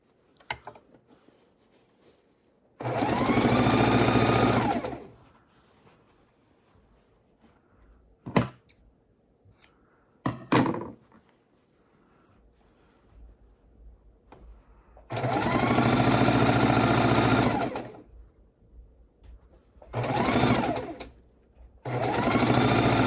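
Domestic sewing machine stitching a dark blue fabric scrap onto a quilt, several rapid whirring runs of needle action, mostly a few seconds each, with clicks and quiet handling between them.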